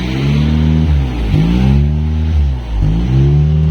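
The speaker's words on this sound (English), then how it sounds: "this Remus exhaust system works great" Fourth-generation Honda Prelude 2-liter engine fitted with a Remus exhaust, revving up and dropping back three times in close succession, loud and near with a throaty rasp and no talking.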